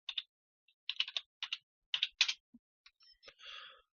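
Typing on a computer keyboard: short bursts of crisp, close key clicks in quick clusters, quiet and alone with no talking.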